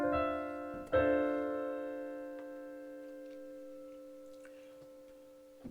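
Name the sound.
minor ninth chord played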